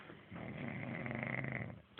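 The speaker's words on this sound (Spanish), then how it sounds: "Él dice que no ronca. Y está roncando." A man snores in one long drawn rasping breath, close and fairly loud, with a quieter intake trailing off at the end.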